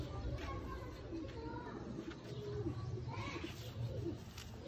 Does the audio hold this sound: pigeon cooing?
yes